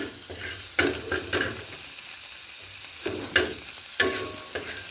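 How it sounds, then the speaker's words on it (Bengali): Onions fry in a pan for a Bengali hilsa and tamarind sour dish, giving a steady low sizzle broken by several louder scraping stirs, close by with no talking. "পেঁয়াজটা ভেজে নিচ্ছি"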